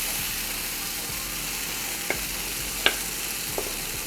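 Protein waffle batter cooking on a griddle, a steady even sizzle with a few faint ticks and taps, without talking.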